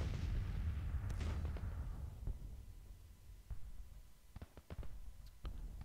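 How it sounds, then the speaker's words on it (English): Civil War artillery batteries fire in the strategy game Grand Tactician: The Civil War, a heavy distant boom rolling off at the start followed by scattered sharper cannon reports at varying distances, without speech. "guns are in position here, firing into the flank of these rebel guns."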